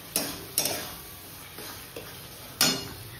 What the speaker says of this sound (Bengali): এদিকে মশলাটা প্রায় কষে এসছে, মশলা কষছে।